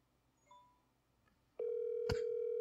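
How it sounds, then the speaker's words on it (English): A telephone call tone sounds, with a few faint beeps followed by a steady loud tone that starts abruptly and continues, alone and close. "Answer the phone."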